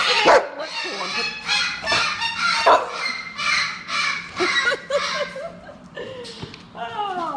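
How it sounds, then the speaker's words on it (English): A deaf dog barks on cue in a busy room full of animals, giving a rapid series of loud, harsh, honking barks with other animal noises around it. "Watch how I taught my deaf dog to speak on cue."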